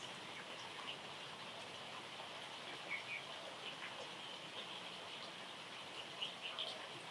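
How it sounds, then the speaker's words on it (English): Steady, soft rain falls in a continuous hiss during a quiet outdoor rest, with a few faint bird chirps scattered over the wash of sound. "I hope you can hear the sound of the rain, that you can enjoy the sound of the rain"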